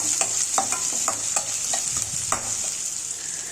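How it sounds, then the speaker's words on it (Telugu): Onions frying in a pan give a steady bright sizzle while a spoon scrapes and stirs through them in quick repeated strokes, close and loud, with no one speaking. "ఒక 10 మినిట్స్ అలా ఆనియన్స్ని ఫ్రై చేసేసుకోవాలి"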